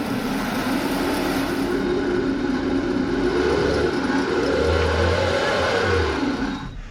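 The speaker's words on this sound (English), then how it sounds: "a lot of wheel spin, no forward progress" A 2026 Toyota RAV4 AWD in normal mode spins its wheels on rollers during an off-road torture test, the engine revving loud and steady with a whining, rising-and-falling tone and no pause for the full stretch.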